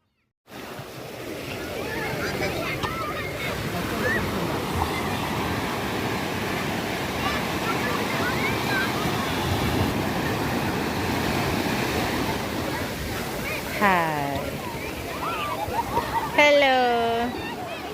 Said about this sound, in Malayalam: നമ്മൾ ബീച്ചിലോട്ട് വന്നു